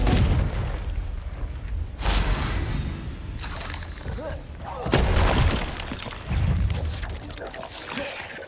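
In Hogwarts Legacy, repeated Confringo explosion spells go off in loud bursts and booms with shattering crashes, several blasts spaced a few seconds apart among spoken spell incantations.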